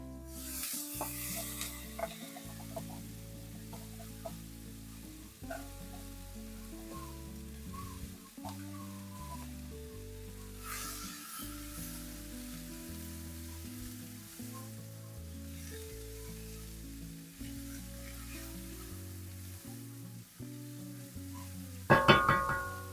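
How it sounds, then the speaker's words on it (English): Diced onion frying in bacon fat in a pan gives a steady, faint crackling sizzle throughout, with a louder scrape of stirring near the end and no talking. "Hear that sizzle?"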